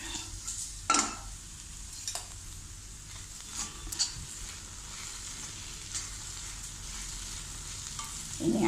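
Okra frying in a pan for vendakkai thoran is stirred, giving a steady close sizzle broken by a few soft scraping strokes, with no talking.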